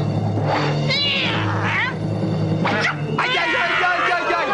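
A cartoon cat meows in several rising and falling calls, one after another, layered over background music and animated-film ambience.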